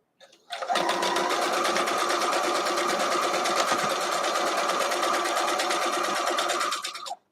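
Sewing machine stitching a quarter-inch seam through snowflake-print quilt fabric for a Nordic sweater block, running steadily and loudly for about six and a half seconds with a fast, even whir and no pauses.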